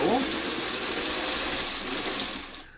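A sewing machine stitches quilt seams for a Tilted Frame quilt block. Its motor runs as a steady, loud whir throughout and tapers off at the end.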